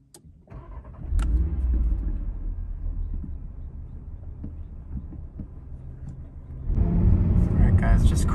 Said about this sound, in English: just cruising a little bit, wanting to hear the intake.